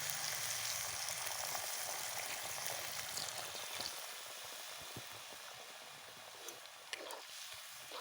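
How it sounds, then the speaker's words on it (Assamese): Water splashed into a hot wok of frying vegetables hisses in a steady broadband sizzle and bubbling, close and continuous, tapering slightly after a few seconds with a couple of small clinks near the end. "এইপিনে এতিয়া কেৰাহীত পানী অকণমান দি দিম।"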